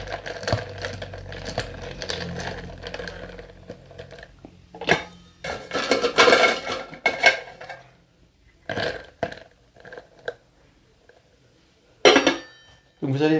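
A barspoon and ice clinking in a mojito glass, sharp bright clinks in irregular bursts with quiet gaps between, close and fairly loud, a few later strikes standing alone.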